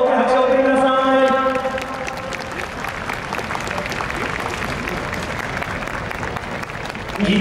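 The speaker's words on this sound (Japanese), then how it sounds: "どうぞ拍手を送りください" Applause at a Super GT 2020 GT300 championship team awards ceremony, a steady wash of crowd clapping that carries on for several seconds after a voice at the start.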